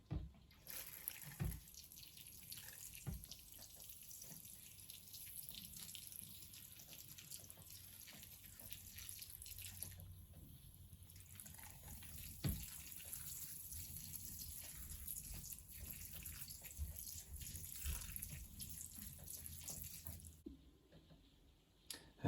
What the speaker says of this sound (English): I'm just going to water them in.